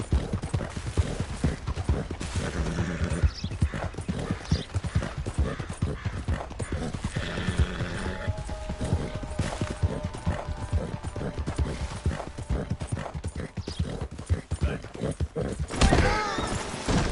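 Horse hooves clip-clop in a fast, steady galloping rhythm in the western video game Red Dead Redemption 2, continuous and close, with a brief whinny and faint game sounds mixed in.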